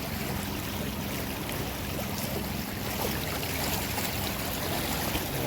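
Water pours down a waterfall at Kupari, Balasore district, Odisha, making a steady, dense rushing roar that fills the whole clip without pause or talking.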